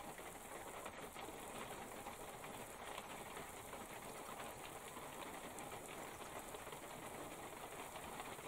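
Steady rain falls on coastal sea cliffs in Scotland, a continuous even hiss with no pauses, faint and distant in character, with a few brief high ticks early on and no voices.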